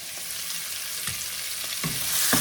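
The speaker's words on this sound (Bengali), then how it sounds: "পেঁয়াজটাকে আমি ভাজা ভাজা করে নিচ্ছি" Onions fry in a pan with a steady close sizzle, broken by a few soft scrapes and stirs toward the end.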